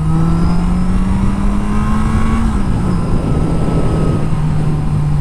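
A 1982 Yamaha Seca XJ650 motorcycle accelerates smoothly while ridden, its engine note rising in a steady whine, dipping briefly at a gear change, then climbing again under loud wind rush.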